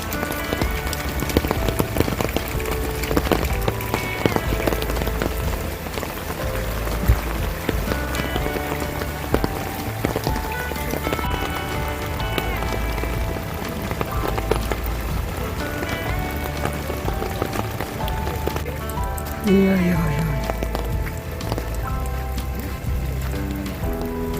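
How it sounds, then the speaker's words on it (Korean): Steady rain drums on the rooftop tent of a Hyundai Staria camper van, a dense constant patter with occasional louder drops, and a voice speaks briefly near the end. "비가 종일 오네요"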